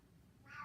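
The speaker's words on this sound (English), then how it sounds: "That's a cat in the background," A cat gives a single short meow in the background, faint and distant against quiet room tone.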